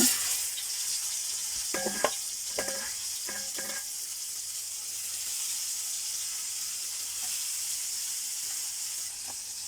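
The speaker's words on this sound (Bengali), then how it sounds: "দেখুন হলুদ দিয়ে মাছটিকে মাখিয়ে তেলে আমি বেজে নিব" Turmeric-coated fish fries in hot oil in a village kitchen, giving a steady, close sizzling hiss that runs the whole time, with a few sharp spatters and utensil clinks early on.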